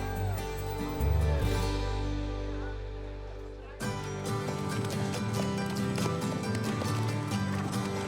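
Mounted police horses moving at a training colloquium, steady clip-clop of hooves under a dense, continuous mix of ambient noise and faint voices, with a sudden shift in the background partway through.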